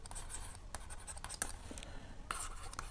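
Pen or chalk scratches out a trigonometry formula by hand in quick strokes and taps, close and fairly quiet, with pauses between bursts of writing and no clear speech.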